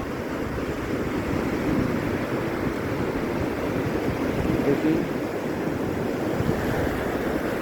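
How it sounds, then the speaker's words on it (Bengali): Steady, heavy roar of surf and churning sea water, continuous and close, with wind buffeting underneath and no voices. "সাগরের প্রচণ্ড ঝড়, সাগরের প্রচণ্ড ঢেউ"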